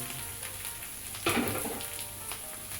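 Bell pepper and eggplant sizzle in a pot of beef and okra while being stirred, a steady frying hiss with one louder stirring burst partway through and no talk.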